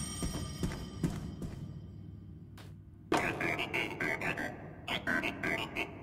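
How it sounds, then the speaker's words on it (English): Telephone ringing in the video game Dishwashing Simulator, a burst of repeated bright electronic rings starting suddenly after a quieter stretch, then a second ringing burst near the end. "The phone is ringing."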